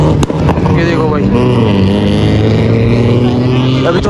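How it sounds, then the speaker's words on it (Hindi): Heavy motorbikes passing on a Saturday night track in Karachi, a loud, constant engine roar with shifting harmonic tones that fills the whole stretch without letting up. "ये हैवी बाइकें जा रही है"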